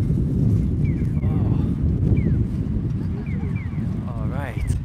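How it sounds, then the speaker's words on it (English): Outdoor wind on a street in Nakano, Tokyo, rumbles steadily and loudly across the microphone, with faint higher chirps and sounds scattered over the gusting noise. "Whoa, it's getting windy now."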